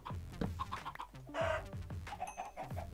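Minecraft chicken clucks in a video game, several short soft clucks in an uneven rhythm with faint game sounds in the background and no talking.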